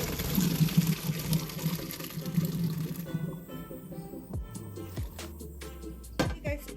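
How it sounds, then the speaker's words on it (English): Pasta cooking water is drained from a pot for homemade baked macaroni and cheese. A close, steady gushing pour runs for a few seconds, then thins into trickles, splashes and scattered drips. "So now what we're going to do is drain our water out."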